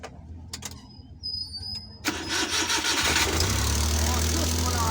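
A car engine cranks and starts after a wiring repair on a car that would not start, then settles into a loud, steady idle with a low rumble, preceded by some clicks and handling noise.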